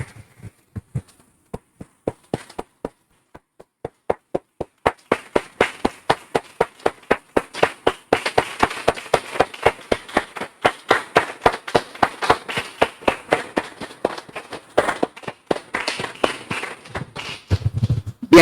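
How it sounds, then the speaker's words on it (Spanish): Applause from a church congregation: sparse individual claps at first, building into steady, rhythmic group clapping that fills the space, with no talk over it. "Vamos a un aplauso, hermanos."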